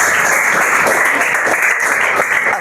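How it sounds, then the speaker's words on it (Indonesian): Classroom applause for a student, a steady wash of many clapping hands sustained loudly throughout, with no voices standing out. "tepuk tangan untuk Firzan"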